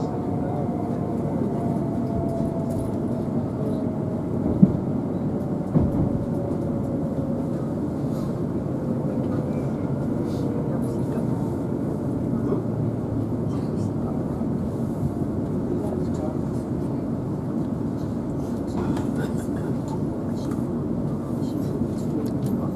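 Steady loud rumble from inside a passenger train on the Walsall to Wolverhampton line via Birmingham New Street as it approaches Duddeston station, a continuous rolling drone with a few brief clunks and a faint rising whine.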